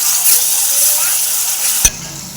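Chopped tomatoes and amaranth curry are stirred in a hot pan, a loud sizzling hiss with a utensil scraping through, ending in a sharp knock of the spoon against the pan.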